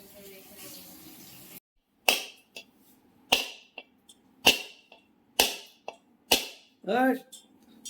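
A coconut is struck hard again and again to crack it open, giving about eight sharp, loud knocks spaced roughly half a second to a second apart, with voices nearby between some blows.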